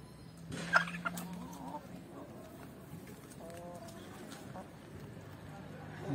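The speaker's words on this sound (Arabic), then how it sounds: "يعني هذا الدجاج الاحمر ومعاه زوج ديوكا يعني بلدي عرب" Red Arab baladi chickens and two roosters make faint clucks and gobble-like calls in a farmyard, with a louder call near the start and someone talking quietly in the background.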